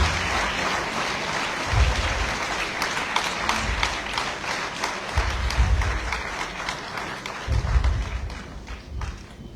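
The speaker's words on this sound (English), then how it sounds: "Keep clapping, keep clapping." A crowd claps steadily at the 71st graduation ceremony of G.L. Dennis Foreign school, with a loud, dense patter of hands broken by occasional heavier thumps, continuing without speech.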